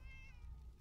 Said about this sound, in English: There's a cat. Oh, it's the kitty cat.